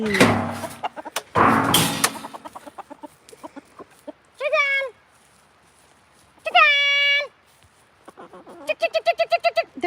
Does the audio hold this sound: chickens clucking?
yes